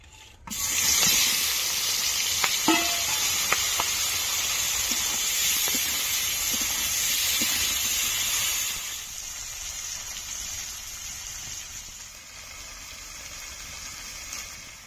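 Prawns are dropped into hot oil in a wok, setting off a loud, steady sizzling hiss that keeps going for several seconds and then eases to a quieter, continuous fry, with faint scraping knocks now and then.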